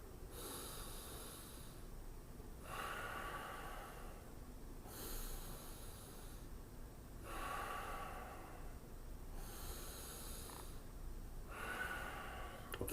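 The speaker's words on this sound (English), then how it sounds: "So fire breathing, hand over your mouth, breathe in and out 3 times." Rapid fire-breathing exercise during a morning stretching warm-up: forceful breaths in and out through the nose with a hand over the mouth, coming in repeated bursts of quick snorting huffs separated by short pauses, close and loud with no talk.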